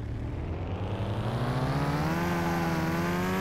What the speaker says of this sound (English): The squeaky sound is the turbo, I think.